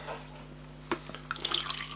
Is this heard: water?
yes